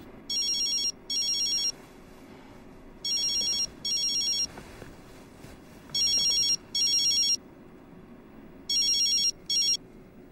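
A telephone call to Roy rings out in repeated paired bursts of an electronic ringtone, four pairs at even intervals over a faint room hush.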